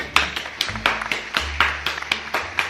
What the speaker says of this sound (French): Des applaudissements pour Lucami.